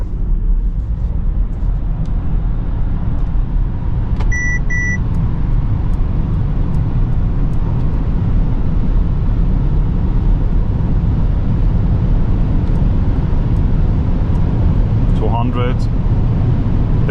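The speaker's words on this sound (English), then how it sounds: "Pushing full throttle right now." Mercedes EQS 580 SUV on winter tires accelerating at full throttle on the Autobahn, heard from inside the cabin as a steady, loud rush of road and wind noise with a faint electric whine. Brief chimes sound partway through.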